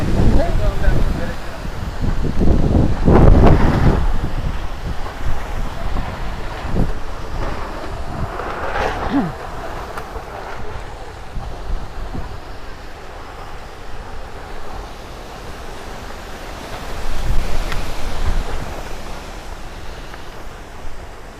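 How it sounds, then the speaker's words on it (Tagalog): Gusty wind buffets the microphone in loud low rumbles on a farm, with people talking intermittently underneath and louder surges around the start and near the end. "Grabe ang hangin."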